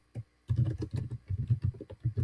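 Quick bursts of keystrokes on a computer keyboard as a text prompt is typed, close and fairly loud, with an uneven, pausing rhythm and no talking.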